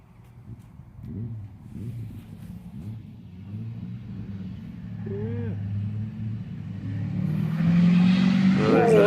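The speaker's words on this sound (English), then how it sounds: "Is that motorcycle? Is it making growly noises?" A motor engine rumbles low and steady, building in loudness toward the end with a rising growl, and a voice murmurs faintly underneath.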